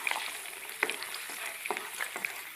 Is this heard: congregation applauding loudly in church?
no